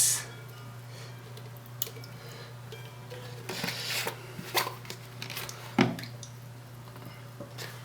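A Mod Podge and water mixture is stirred by hand in a container, giving irregular wet squishes, scrapes and clicks, close and fairly quiet, with a steady low hum beneath and no talking.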